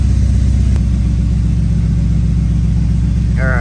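A turbocharged BMW E46 engine idling loud and close, a steady, even throbbing rumble that holds throughout with a brief sharp tick early on, and a faint voice near the end.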